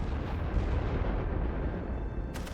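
Mortar fire on a World War One trench battlefield in The Great War: Western Front, heard as a heavy, low rumbling boom that rolls on continuously and fades slightly toward the end.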